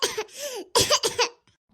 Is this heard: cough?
yes